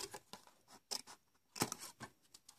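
A paper envelope flap being cut off with scissors, a quiet series of quick crisp snips in an irregular rhythm, close up and alone.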